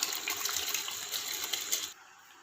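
Rice tipped into a pot of boiling water for Hyderabadi chicken biryani, heard as a close, steady watery rush and splashing that cuts off sharply near the end.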